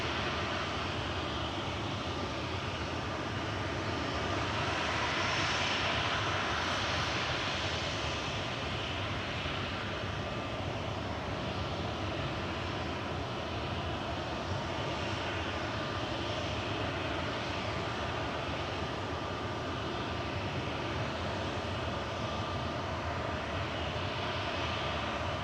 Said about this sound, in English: Royal Air Morocco departing next in front of us, back to Casablanca with flight 819